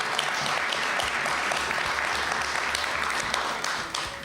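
A motivational talk's audience gives dense, sustained clapping that stays even for several seconds and then begins to taper off near the end.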